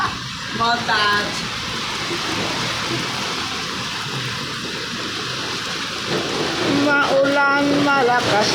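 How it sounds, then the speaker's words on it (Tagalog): Heavy rain falls in a steady dense hiss, with people talking over it near the start and again near the end. "Maulan, malakas ang ulan."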